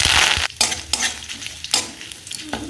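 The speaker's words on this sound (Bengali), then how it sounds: "এবার এতে আমি দিয়ে দেবো কারি পাতা।" Curry leaves hit hot oil kept back from frying pakoras for chicken 65. A loud burst of sizzling opens, then spatula strokes stir up three or four shorter crackling surges, with no talking.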